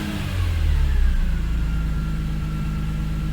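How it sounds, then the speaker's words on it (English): A BMW E39 M5 or E46 M3 car engine after a catalytic converter delete, given a light rev during warm-up that swells then settles into a steady, rough, close idle. "I'll give it some slight revs to see if it dies after"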